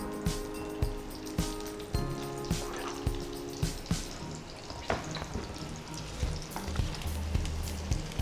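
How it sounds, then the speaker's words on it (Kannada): Potatoes fry in hot oil with a steady, close sizzle and crackle, punctuated by regular clinks of a utensil stirring the pan, with no talking. "ಫಸ್ಟ್ ಇದು ಆಯಿಲಲ್ಲಿ ಫ್ರೈ ಮಾಡ್ಕೊಬೇಕು ಇದಿಷ್ಟನ್ನು. ಓಕೆ, ಎಣ್ಣೆ ಕಾದಿದೆ."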